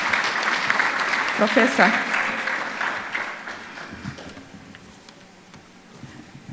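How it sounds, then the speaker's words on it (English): Audience clapping welcoming a keynote speaker at a conference, strongest early and thinning out, with a voice speaking over it. "Let's clap for him as he comes."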